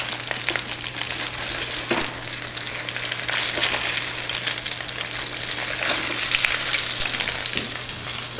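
Thin breaded cutlets frying in a pan, a steady loud crackling sizzle with a constant hum underneath and occasional sharper pops and scrapes, close up.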